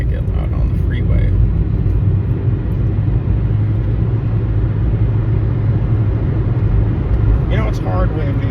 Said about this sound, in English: Now it might get loud on the freeway.